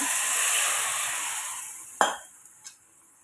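Spices, bottle gourd and tomato stirred in a cooking pan for a Tamil bottle gourd curry without coconut, with a steady sizzle that fades, then a sharp metal clink of a utensil against the pan and a couple of faint taps.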